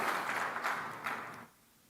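Audience applause after a talk, a dense wash of clapping that holds steady for about a second and a half, then stops abruptly, leaving faint room noise.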